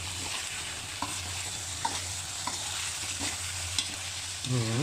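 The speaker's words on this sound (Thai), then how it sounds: "ดังนั้นก็เอาสตอใส่ลงไป ก็ผัดสตอให้เม็ดใสขึ้นมาก" Pork belly with shrimp paste and stink beans stir-fries in a pan, a constant sizzle under regular spatula scrapes and taps, with a louder scraping sweep at the very end.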